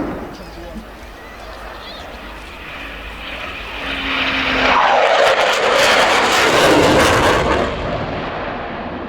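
A fighter jet's engine roars overhead during a flying display at Yeovilton Air Day 2015, swelling louder midway with a sweeping whoosh as it passes close, over a steady background rumble.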